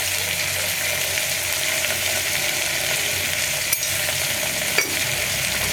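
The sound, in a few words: stirring potato and onion masala with turmeric in a pan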